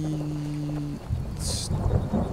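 Rain and thunder in the video game Skyrim: a steady wash of rainfall with low rumbling, after a brief steady tone fades out.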